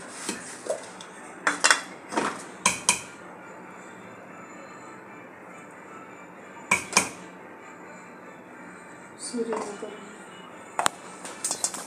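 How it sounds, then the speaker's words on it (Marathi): Chocolate cake batter being beaten with sugar in a bowl: scattered bursts of a utensil clinking and scraping against the bowl, loud and close, separated by quieter stretches. "अशी थोडी थोडी साखर घालून आपल्याला बीट करायची आहे"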